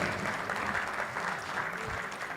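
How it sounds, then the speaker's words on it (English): An audience applauding a young student at a medical college event in Puducherry, steady moderate clapping throughout, somewhat distant and even. "You can give a applause to the young chap."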